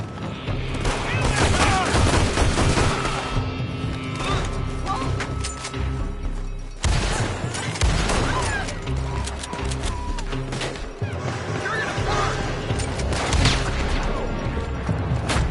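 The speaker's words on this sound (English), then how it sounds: "They're shooting from that building!" Sustained gunfire in Red Dead Redemption 2, dense volleys of shots and crashing impacts, loud and continuous throughout, with shouting voices mixed under the battle.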